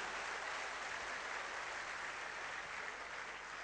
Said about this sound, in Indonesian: tepuk tangan kepada para sponsor Anda yang mengundang Anda hari ini Bapak Ibu.